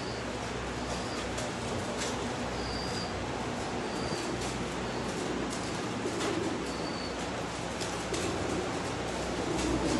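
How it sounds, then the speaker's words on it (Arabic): French meat pigeons coo softly while eating feed in a Kuwait loft, with several low, repeated coos scattered over a steady hiss of background noise, near and fairly faint, no talking. "كل الحمام ياكل"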